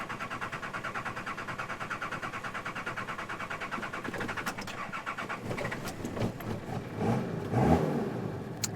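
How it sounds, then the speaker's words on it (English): A 4x4 with a worn vane pump, stalled on a hill, is cranked and restarted: a fast rhythmic churning of the starter builds into a catch and a rising engine rev, close and fairly loud with no voices. "I'll see if I can start it again."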